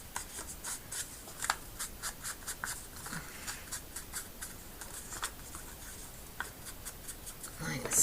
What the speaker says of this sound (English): So I'm going to ink around that.